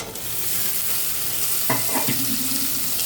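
Green peas tipped into a pan of golden frying onions, giving a steady close-up sizzle with stirring scrapes and a brief burst of fresh crackle as they land.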